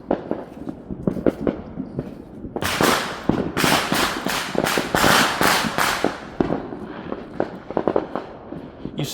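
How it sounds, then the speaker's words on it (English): Fourth of July fireworks bursting outdoors at night, a rapid run of sharp cracks and booms that swells into a dense, loud barrage in the middle before thinning back to scattered pops. "you can hear these fireworks going on, but you barely can see them"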